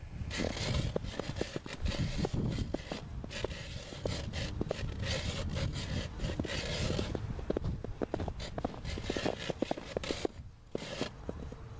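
Steady grinding and crunching of an ice auger boring through ice while ice fishing, continuous and close, with scraping texture throughout.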